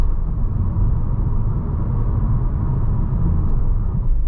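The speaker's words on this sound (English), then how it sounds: "all you have is a little bit of road noise and then some of that wind going over the top of the vehicle" Steady low rumble of road and wind noise inside a moving Nissan Leaf electric car's cabin, a continuous even drone with no talk over it.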